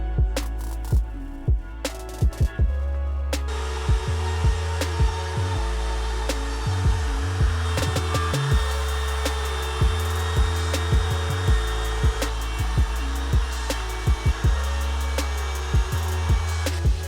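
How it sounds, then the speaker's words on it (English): A handheld router cuts a recess into the underside of a plywood desktop, whining steadily for most of the stretch with intermittent cutting bursts and brief pauses, loud and close, with no talk. "flip the table over, and actually route a recess for that charger"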